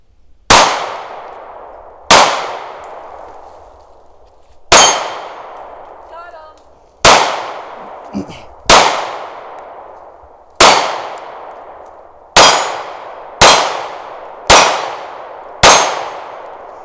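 A SIG P365 pistol fires ten sharp single-handed shots at steel targets, each crack followed by a ringing metallic clang that decays away. The shots come at irregular intervals, close and loud.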